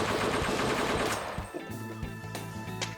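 A rapid burst of gunfire rattles loudly, then a few separate sharp pistol shots ring out over a humming tonal background, the gunshot sound replacing a car horn.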